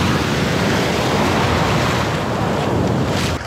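Small ocean waves wash onto a beach at Puerto Escondido on Mexico's Oaxaca coast, a continuous broad surf roar mixed with wind buffeting the microphone, loud and close, fading slightly at the end.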